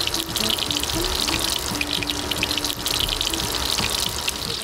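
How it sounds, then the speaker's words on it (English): Shrimp frying in a pan of hot oil, a steady close hiss and bubbling sizzle with fine crackling that runs evenly for the whole stretch without voices. "All right, so we're just gonna fry up these shrimp."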